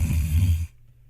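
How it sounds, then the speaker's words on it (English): A man snores once, a loud, rough, low rumbling snore lasting more than half a second before it cuts off into near silence. "Nah, I was snoring."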